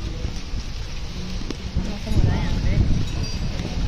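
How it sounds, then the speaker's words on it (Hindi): Heavy rain falls steadily in a dense, continuous hiss on surfaces outdoors, loud and close throughout. "इतनी बारिश हो रही है"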